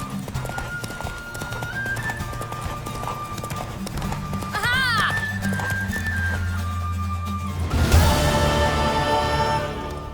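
A mare gallops in The Witcher, hooves drumming in a fast steady rhythm, then a loud whinny rises near the end; orchestral music plays beneath and a voice speaks briefly.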